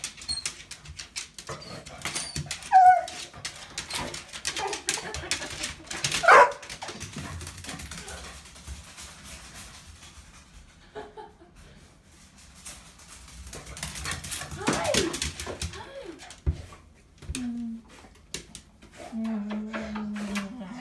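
A PBGV dog whimpers, yips and barks in excited bursts during a homecoming greeting, close by, with someone talking and laughing over it.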